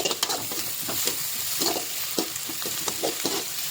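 Spices crackle and sizzle in hot oil in a home kitchen, tempering for curd rice, with close, uneven pops and stirring scrapes over a steady frying hiss and no talk.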